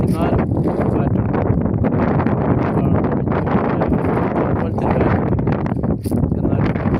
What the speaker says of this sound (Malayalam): ചെറിയ രീതിയിൽ കാറ്റൊക്കെ ഉണ്ട്